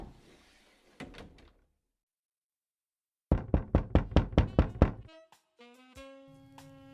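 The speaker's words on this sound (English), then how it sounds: "I opened the door." A couple of dull thumps, a pause, then a rapid run of loud knocks before a door creaks open with drawn-out squeaky tones.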